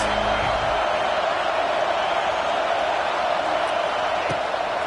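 A stadium crowd roars steadily through a college football video game as the defense faces a big third down, a dense, continuous wash of cheering with no break.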